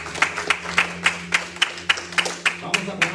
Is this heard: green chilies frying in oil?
no